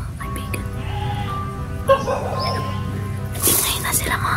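A goat bleats in a few short, wavering cries amid a busy outdoor soundscape with steady background noise and occasional louder bursts.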